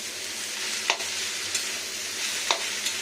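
Cabbage, rinsed and drained, being stirred into hot oil in a pan, a steady background sizzle broken by a few brief scraping strokes of the spoon, close and alone with no talk.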